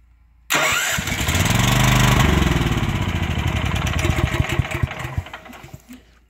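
A generator engine cranks after its start button is pressed, a loud close churning roll that bursts in suddenly and runs for about five seconds with a pulsing rhythm before trailing off, never catching into a steady run.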